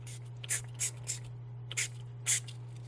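A spray bottle spritzes while crafting sticks are prepped for a beach-themed project, five or six short sharp hissing bursts at uneven intervals over a low steady hum, close and clear with no talking.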